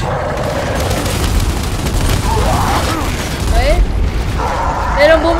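Rapid gunfire and heavy booms fill a Gears 5 co-op firefight, dense and loud throughout with bursts of automatic fire, while players shout and talk over the battle.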